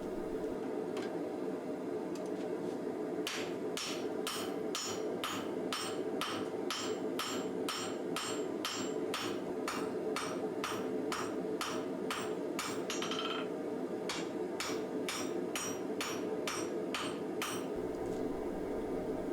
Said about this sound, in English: I flip the bar around and begin forging the point end.